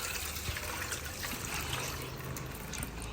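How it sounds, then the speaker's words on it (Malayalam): Milk pours into parotta dough with a steady, continuous trickle heard close up for a few seconds, alone and without speech. "നമ്മൾ പാല് ചേർത്ത് കൊടുക്കുന്നത് കേട്ടോ"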